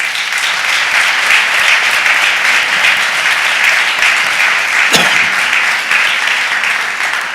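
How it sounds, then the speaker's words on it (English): Audience applause in a city council chamber, a dense and steady wash of clapping sustained at full strength from start to finish, with no voices heard. "I think he deserves a round of applause"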